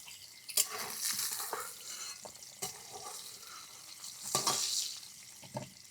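Duck eggs coated in spice powder fry in oil with a quiet, steady sizzle, broken by several sharp scrapes and stirs of a utensil in the pan.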